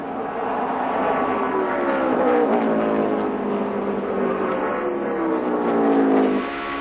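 NASCAR race cars roaring at speed at Talladega, a loud sustained engine drone rising and falling in pitch over several seconds, heard alone without talk.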